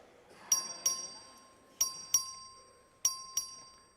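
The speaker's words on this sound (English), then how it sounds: "Clerk, ring the bell." A voting bell rings in the Texas House chamber during a special legislative session, sounding in three pairs of quick, bright chimes at steady intervals, each strike ringing out and decaying in an otherwise quiet room.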